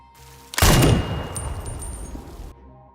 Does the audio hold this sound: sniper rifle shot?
yes